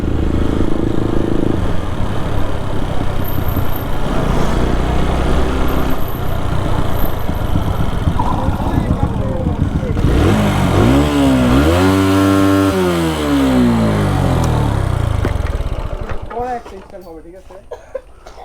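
A motorcycle engine runs loud and close during stunt riding, revving steadily before rising and falling in pitch, then cutting away near the end; voices are heard over it.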